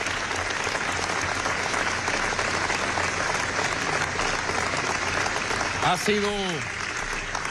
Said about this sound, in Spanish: pido el reconocimiento con gran aplauso para el pueblo de Irán, para el presidente Hassan Rouhani